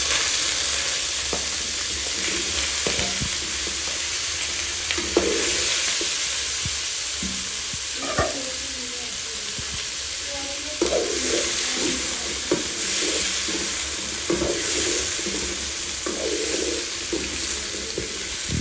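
Potatoes frying and being stirred in hot oil in a village kitchen, a steady loud sizzle with scraping stir strokes and clatters throughout, no voices.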